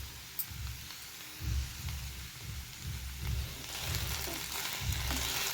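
Okra cooking in a pan with tomato, stirred gently, giving a continuous hiss and crackle with rhythmic scraping strokes of a spoon. No one speaks.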